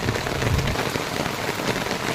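Steady rain falls around a house, a dense, even hiss of drops on surfaces, close and continuous with no pauses or voices.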